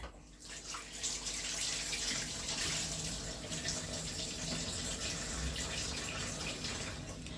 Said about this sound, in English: So I'm going to go ahead and get some water on it to wash it.